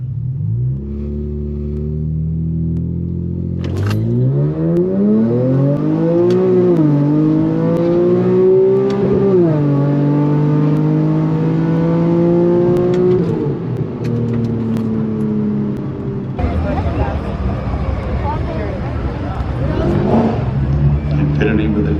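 An E85-tuned Infiniti Q50 with a double overhead cam V6 drag races a four-cylinder Honda at a track. A loud, close engine roars and climbs in pitch through rising revs, then breaks into a harsher, noisier roar near the end.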